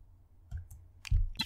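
A few separate clicks of keys on a computer keyboard as a terminal command is typed on a Fedora 29 PC, sparse and fairly close with quiet gaps between strokes.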